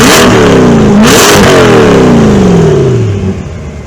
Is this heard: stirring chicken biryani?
no